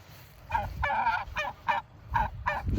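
Wild turkey tom gobbling repeatedly in a short burst of rapid, rattling calls, fairly close and loud outdoors, with no talk over it.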